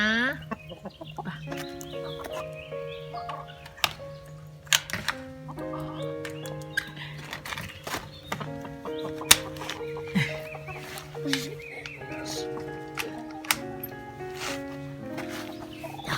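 Hens cluck and murmur in short, repeated bursts close by, with occasional sharp clicks and rustling around them.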